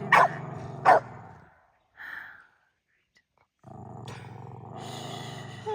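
Dogs bark at a deer in an aspen grove, with two sharp, loud barks close together, a shorter growl-like call, a pause of near silence, then a sustained growling, grumbling stretch. Nearby voices may mix in.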